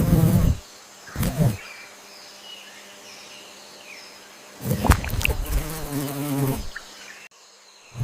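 A fly buzzing close by near a red-eyed tree frog in the Amazon rainforest, loud bursts of whining wingbeats that come and go, with quieter gaps in between.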